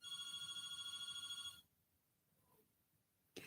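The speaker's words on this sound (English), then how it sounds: "What is up with that phone this evening?" A telephone rings with a repeated electronic warble for about a second and a half, then stops, leaving near silence before a sudden noise at the end.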